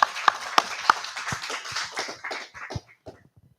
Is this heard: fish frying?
no